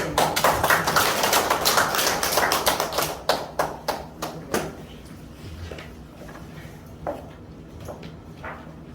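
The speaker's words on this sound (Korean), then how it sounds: "자, 박수 보내주세요." Hands clapping at a unification leadership training event in a Gwangju art museum: a small group's sharp, fairly close claps, brisk at first, then thinning to scattered single claps before dying away.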